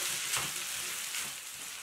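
Boiled vermicelli tossed with masala in a pan over medium heat, giving a steady soft sizzle with faint scraping stir sounds, close and continuous, with no voices.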